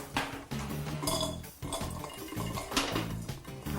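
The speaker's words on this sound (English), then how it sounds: "How unfortunate that I'm spilling them." Spiced nuts tumbling into silver bowls: a quick run of small clinks and rattling taps against metal, close and fairly quiet, in irregular bursts.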